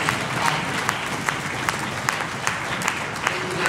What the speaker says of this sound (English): So, can we give a round of applause to all of those?